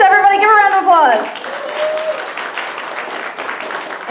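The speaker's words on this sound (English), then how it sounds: "Everybody give a round of applause!" Audience applause at a fan convention's assertiveness seminar panel, a dense crowd clatter that swells loud and holds steady after a short burst of cheering and voices at the start.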